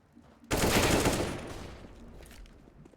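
Counter-Strike gunfire during an ESEA Premier match between paiN and Mythic: a sudden loud, close burst of shots erupts, then trails off into a long reverberant tail.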